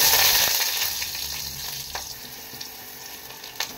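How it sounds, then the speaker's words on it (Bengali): Eggplant pieces fry in hot oil in a wok with a steady sizzle, loudest at the start and tapering, with a few scattered clinks and scraping stirs. "চলো ভাত আগে বেগুনটা ভেজে নিই।"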